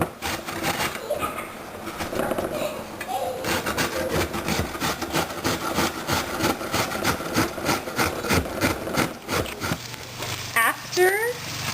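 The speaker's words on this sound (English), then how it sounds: "I'm going to grate them up." A medium-sized onion is rubbed against a hand grater in quick, close, rhythmic rasping strokes, with a voice talking over parts of it.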